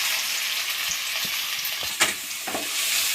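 Onion frying in oil with spluttering cumin seeds, for egg keema: continuous loud sizzling with scattered pops and a few stirring scrapes, close up and without talk.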